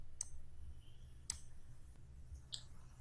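Sharp, faint mouse clicks on a computer, three distinct clicks spaced about a second apart over quiet background hum, with no voices.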